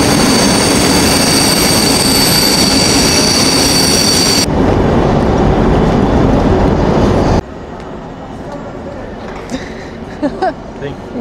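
Loud, steady rumble inside a moving train, with wheel squeal and a dense roar that changes abruptly twice before dropping to a quieter hum with a few knocks, while people talk.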